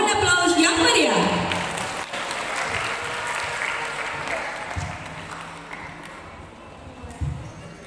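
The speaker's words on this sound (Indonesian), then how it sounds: "Mohon aplaus yang meriah." An audience claps and cheers at a Tari Pasaran dance performance, a dense burst of applause that holds steady and then slowly fades. Some crowd noise runs underneath.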